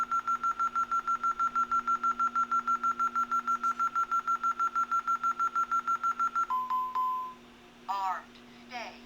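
An ATD Safewatch Pro 3000 alarm keypad beeps rapidly and evenly while arming, a long run of identical tones, then a longer tone followed by a short synthetic voice announcement.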